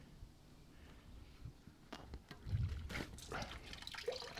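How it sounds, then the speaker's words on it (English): Clean water flows by gravity through a tube into a tub during a medaka fish tank water change, a soft close trickle and splash that builds in intensity after the first couple of seconds. "It's pumping that clean water into this tub."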